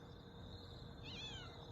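A faint, high cat meow rises and bends once over a soft, steady background hiss, distant and brief.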